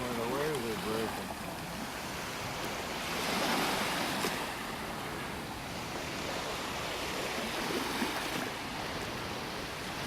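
Ocean surf on a beach in North Naples, Florida, a steady broadband wash that swells and recedes as waves break nearby, with a brief voice near the start.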